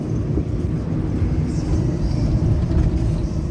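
A 1965 Chevy truck with two new front tires rolls down the road, its engine and tire noise blending into a steady, close, low rumble with no voices.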